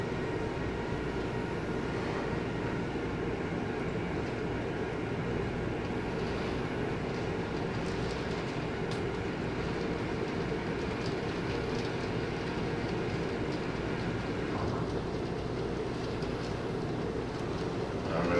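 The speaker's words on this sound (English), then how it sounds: "This here happens to be a Mantua, and I don't think I've ever had this much trouble with this particular locomotive before." A Mantua model train locomotive running on its track: a steady, continuous rumbling whir with faint clicking, even in loudness throughout and heard alone.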